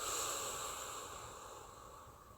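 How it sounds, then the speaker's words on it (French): Slow exhale out through the mouth in a guided sophrology relaxation session, a close, soft breathy rush that gradually fades over about two seconds. "et soufflez par la bouche."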